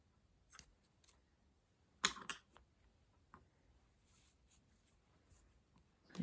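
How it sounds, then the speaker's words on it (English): Scissors snip through crochet yarn with a few crisp, close clicks, one sharper cut standing out, in an otherwise very quiet room. "we can cut the yarn"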